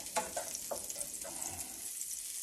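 Butter fries in a pan while deer heart is cooked, giving a steady, bright sizzle throughout with a few soft stirring clinks near the start and no voices.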